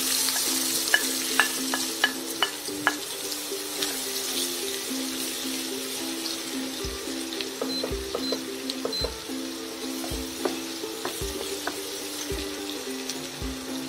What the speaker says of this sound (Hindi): दो से 3 मिनट तक अच्छी तरह फ्राई करेंगे जब तक कि प्याज हमारी गुलाबी ना हो जाए।